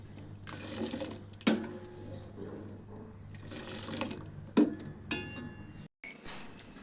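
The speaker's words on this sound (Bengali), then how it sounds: "এরকম ঘোরাবো আর উপর থেকে এরকম নিয়ে এভাবে দুধটাকে ঠান্ডা করব" Milk for mishti doi poured from a height to cool it, a close splashing, trickling stream with a few sharp knocks of the vessel, moderately quiet and with no voices.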